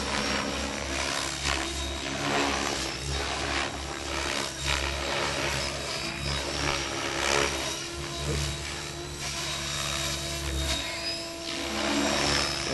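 A Logo 600 RC helicopter flies a half flip, its rotor giving a steady, loud, high-pitched whine with a pulsing blade throb that swells and eases as it maneuvers, with no talk.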